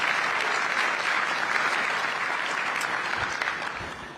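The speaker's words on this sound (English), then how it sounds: "Let's give her a round of applause." An audience at the public opening of a rail line gives a sustained round of applause, a dense, even wash of clapping that holds steady before tapering slightly at the end.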